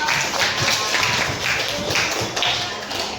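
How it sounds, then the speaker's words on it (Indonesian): A Grade 10 chemistry class claps hands together in a classroom, with loud, evenly spaced bursts of clapping repeating through the moment and a little talk mixed in. "Tepuk tangan dong"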